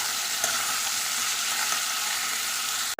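Onion and potato frying in a pan, a steady dense sizzle with faint stirring scrapes, close and continuous with no talking, then cut off abruptly at the very end.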